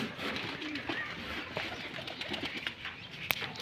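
A flock of pigeons cooing steadily, with scattered wing flaps and a few sharp chirps and clicks nearby.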